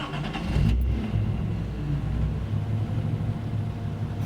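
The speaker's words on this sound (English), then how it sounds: "All right, let's see how she fires up." A Nissan 280ZX with a rebuilt cylinder head cranks briefly, then fires up and settles into a loud, steady idle close by, with no talking.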